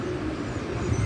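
Teddy pigeons cooing, a short stretch of low throaty coos overlapping from several birds close by.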